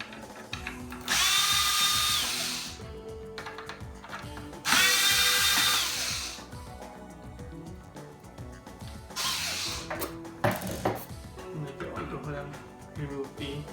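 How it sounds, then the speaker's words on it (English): A power drill backs screws out of a hoverboard's casing in three short bursts of whining motor, each lasting a couple of seconds, with small clicks and handling noises in between and no talk. "I get these 4 screws removed."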